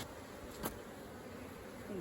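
Honey bees buzz at an open hive while its frames are handled, a faint, steady hum that continues throughout with no talking, and there is a single brief knock near the start.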